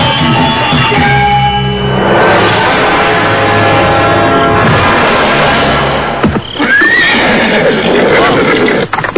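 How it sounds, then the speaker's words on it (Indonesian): Horses neighing loudly with an ensemble of whinnies over dense rumbling movement, a galloping group drawing near in a period drama scene; a sharp rising whinny stands out late. "Aku mendengar derap kuda menuju kemari."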